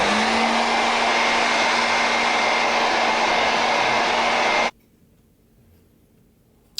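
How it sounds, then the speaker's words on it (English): Hair dryer blowing wet hair, a loud, steady broadband whoosh with a constant motor hum, running close for nearly five seconds before switching off abruptly into near silence. "and then I'm going to blow dry it."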